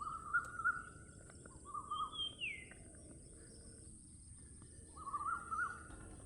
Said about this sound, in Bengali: শুধু পাখির ডাক